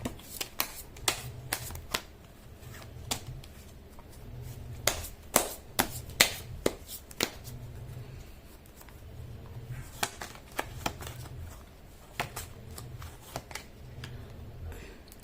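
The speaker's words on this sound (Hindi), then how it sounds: "मैं कर लेती हूँ कार्ड की शफलिंग।" Tarot cards are shuffled by hand in repeated riffling bursts with sharp taps and slaps between them, close and clear over about fifteen seconds, a faint voice murmuring in the background.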